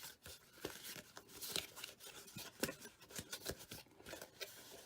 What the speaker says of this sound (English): Now we're going to fold it on all the scores.